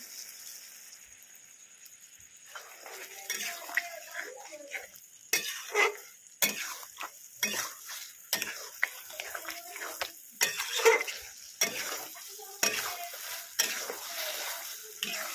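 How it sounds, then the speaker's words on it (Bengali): A spoon stirs cornflour slurry into chilli soya chunks in a hot pan, giving repeated scraping strokes and soft sizzling in bursts, close and fairly quiet, with no talk. "কর্নফ্লাওয়ারের মিশ্রণটা দিয়ে খুব ভালো করে নাড়িয়ে চাড়িয়ে নিতে হবে"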